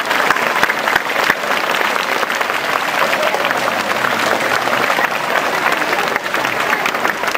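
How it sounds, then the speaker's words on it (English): A crowd applauds at a school investiture ceremony at St. Patrick's School, Asansol, a loud, continuous clapping of many hands that is close and unbroken for several seconds. "Give them a big round of applause."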